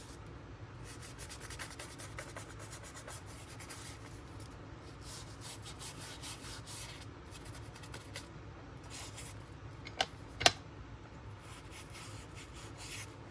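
A tool scrapes across a mixed media craft surface, giving faint, repeated rasping strokes in an uneven rhythm, close by but quiet, with a couple of sharp small clicks near the end.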